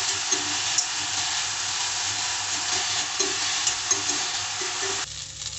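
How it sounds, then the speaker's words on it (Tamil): Turkey berries fry in hot oil in a frying pan over high flame, giving a loud steady hissing sizzle with light periodic stirring taps before the sizzle suddenly drops off near the end. "சுண்டைக்காய் வந்து ஹை ஃப்ளேமில் வச்சுட்டு 1-5 நிமிஷத்துக்கு நல்லா வதக்கிக்கோங்க"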